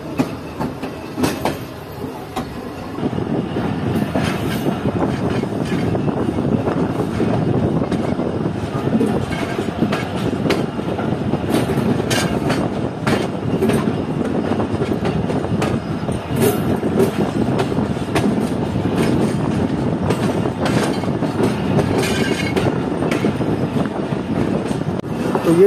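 Mohen Jo Daro Express passenger train pulling out of the platform on the main line, a steady rumbling roar with rail clatter building and holding loud throughout, no talk.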